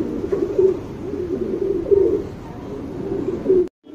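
Repeated soft, throaty cooing from a male Chinese pigeon, close by, in rolling bursts that cut off abruptly near the end.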